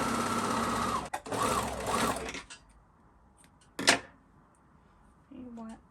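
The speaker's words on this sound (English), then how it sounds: "First I'm gonna overlock this spot and then the opposite." Overlock sewing machine stitching along lace fabric for panties, a fast, steady mechanical whir running loud for about two seconds, stopping, then a brief short burst later.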